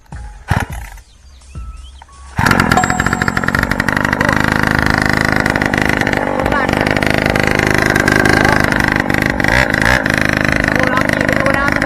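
A motorcycle fitted with a new loud gun-style exhaust pipe starts up after a few seconds of clatter, then revs and idles with a loud, raspy, continuous roar close by.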